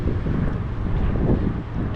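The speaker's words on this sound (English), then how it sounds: "It's very dusty and windy now" Strong, dusty wind buffeting the microphone beside a main road near the Aral Sea in Uzbekistan, a constant low roaring rumble with gusty swells and no other clear sounds.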